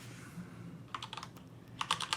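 Quick bursts of keystrokes on a computer keyboard as a web address is typed into a browser, soft clicky tapping in two short clusters over a faint background hum.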